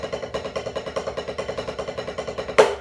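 A steady, even snare roll of rapid paired strokes running evenly for a few seconds, ending with a louder accented hit.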